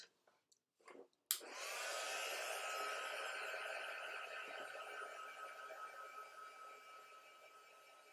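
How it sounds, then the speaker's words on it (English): Heat tool switched on after a few faint taps to dry white pigment ink on a craft card, a sudden click then a steady blowing whir that holds at moderate level and slowly eases. "Hit it with a bit of heat and dry it out."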